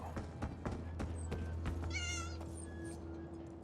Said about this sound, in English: I mean, I hear a cat